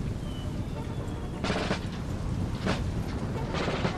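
Cannon fire in Napoleon: Total War, a Napoleonic battle strategy game, with three loud, broad booms spaced about a second apart over a steady rumbling battlefield backdrop.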